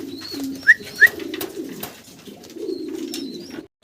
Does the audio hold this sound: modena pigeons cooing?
yes